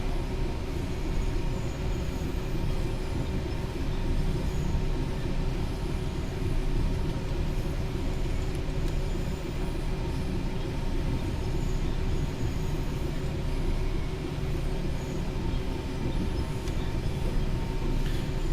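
An Avanti-liveried train running the East Coast Main Line from Peterborough to Doncaster in Train Sim World 4, a loud, constant cab rumble with steady rolling wheel and engine drone.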